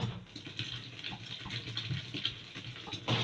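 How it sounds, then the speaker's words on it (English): Water pours into a liquid soap mixture, a faint continuous trickling and splashing with small gurgles, close by and without any talking. "I'm still going to add some more quantity of water to it."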